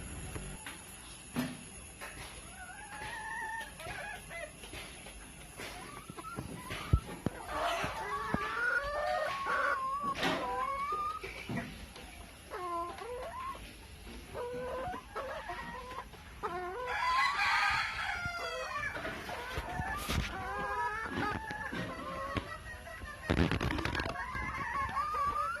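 Free-ranging native chickens cluck steadily in a backyard compound, and roosters crow loudly several times, some close and some farther off, with no talk over them.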